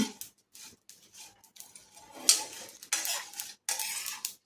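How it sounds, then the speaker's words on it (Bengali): Whole garam masala spices (green and black cardamom, cloves, cinnamon) dry-roast in a pan for a Bengali meat curry, heard as irregular scraping and clinking of a spatula against the metal pan with brief pauses between strokes. "গরম মশলা আছে সেইগুলো সব আমি ভেজে নিচ্ছি"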